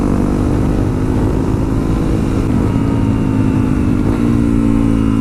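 A Yamaha FZ-07 motorcycle rides along with a loud, continuous engine drone and wind, the pitch holding steady with a slight change near the end.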